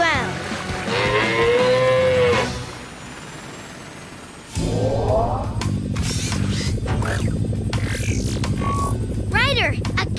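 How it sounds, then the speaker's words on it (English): A cartoon cow in Paw Patrol moos loudly in long, drawn-out calls over a busy mix of music and other sounds, followed by a rumbling, engine-like stretch with some squeaky noises. "Ryder, a cow is on Mr. Porter's patio and is eating all his corn"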